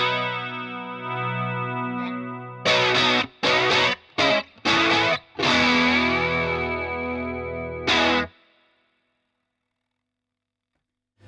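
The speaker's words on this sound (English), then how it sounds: "it's just smashing that input to pieces, and it's a really cool distortion sound, but it's not a level boost" Electric guitar through a boosted Boss CE-1 chorus, its input clipping into heavy distortion: a sustained chord, then a run of short chopped stabs and a final held chord, loud and alone before ringing out into silence.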